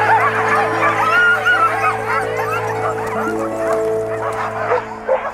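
Sled dogs, including huskies, bark and yip continuously at a dog sled race in the snowy Australian alps, a dense chorus of overlapping barks with whimpers, held steady throughout at moderate loudness.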